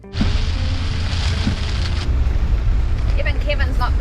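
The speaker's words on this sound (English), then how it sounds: "There's a lot of rain." Heavy rain drums on a moving van during a road trip while the wipers run, a loud continuous roar with low road rumble and scattered sharper patters toward the end.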